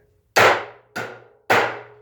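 Three sharp, ringing strikes of a Stanley 20-ounce anti-vibe hammer driving a nail, evenly spaced, close and loud, each with a short metallic decay and no talking.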